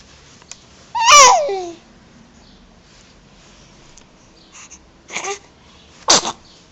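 A baby's sneeze: a sharp burst about a second in, followed by two shorter, softer sneezy bursts a few seconds later, close and indoors, with a quiet pause between them.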